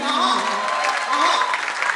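An audience claps at a Hindi poetry recital, a kavi sammelan at IIT, in a steady, fairly loud wash of applause that fills the hall from start to finish.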